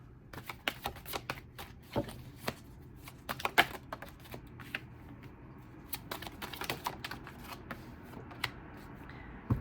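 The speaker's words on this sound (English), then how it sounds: "I'm going to pull 3 cards for the base spread, 3 cards for clarifier." Tarot cards are shuffled and drawn by hand close up, a fast run of crisp, irregular flicking and tapping riffles and light slaps that goes on throughout, quiet and without speech.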